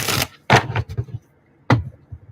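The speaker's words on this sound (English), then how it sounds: "It's hard for me to shuffle the bridge shuffle. I have to like split the deck and do it this way." A thick cardstock tarot deck is split and shuffled, giving a few sharp riffling bursts and soft clacks close by, separated by short pauses.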